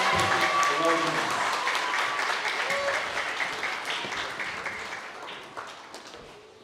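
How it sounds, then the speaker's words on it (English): A crowd applauds steadily, the clapping filling the room before slowly fading out, with scattered voices and cheers mixed in. "And can we have a round of applause for Patsy and all of our sports award winner"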